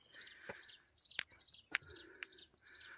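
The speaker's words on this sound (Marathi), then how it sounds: "पक्ष्यांचा आवाज येतो आहे आपल्याला या ठिकाणी" Birds chirp near the entrance of Pandavgad fort, several short sharp tweets and calls scattered across a few seconds against a quiet outdoor background, with no voices.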